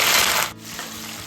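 Onions hit hot oil with bay leaves, cloves, cardamom, cinnamon and other whole spices, giving a loud burst of sizzling hiss that eases to a softer steady fry within a second.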